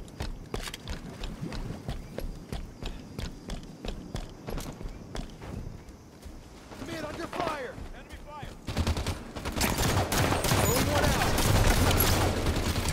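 Rifle gunfire in Halo 5 comes as rapid bursts of sharp shots through the first half, a quieter gap, then a denser, louder stretch of shooting and action near the end.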